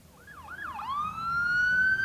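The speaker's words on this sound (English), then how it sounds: "Another siren." A siren wails up and down, then settles into a rising, steady electronic tone that grows louder, with a faint road rumble underneath.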